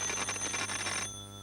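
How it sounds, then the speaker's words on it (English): An electric bell wired to a pair of test probes rings with a continuous rapid metallic clatter, loud and close, then cuts off abruptly after about a second, leaving a faint hum. "These two probes are wired to an electric bell."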